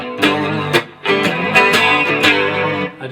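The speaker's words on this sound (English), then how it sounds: "we're going to switch to our first finger and thumb because there's a couple open strings in there" Electric guitar with effects plays the intro of a live song, picked with finger and thumb and letting open strings ring; chords strike in a loose rhythm with several plucked accents, close and full, no speech.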